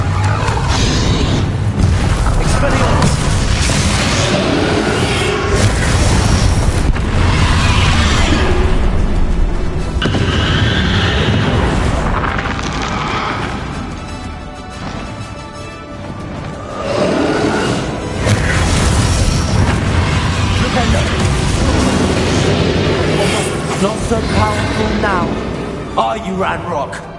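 Spell blasts in Hogwarts Legacy gameplay: repeated booming explosions and whooshing impacts in dense, loud combat, with a voice shouting over the action and a brief dip midway.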